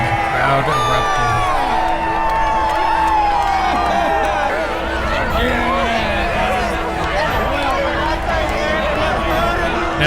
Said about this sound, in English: it hit the ground and the crowd erupted